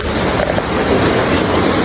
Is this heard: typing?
no